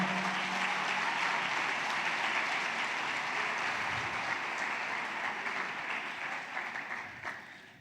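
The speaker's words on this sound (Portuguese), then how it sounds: "Você pode dar uma salva de palmas para o Senhor?" A church congregation at a family worship service applauds in a dense, sustained round of clapping that fills the room and slowly fades toward the end.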